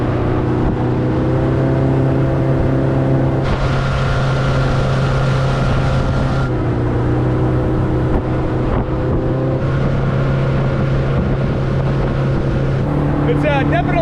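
A boat with a Mercury 150 jet outboard runs steadily on the water, its engine drone loud and continuous with shifting pitch as the throttle changes.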